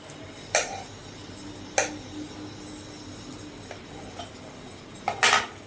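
A knife cuts mushrooms on a board in a home kitchen, giving a few sharp, separate taps and knocks spaced over several seconds against a quiet room hiss.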